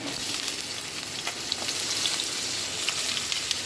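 Oil spits and crackles steadily while frying in a pan, a dense close hiss scattered with sharp little pops throughout.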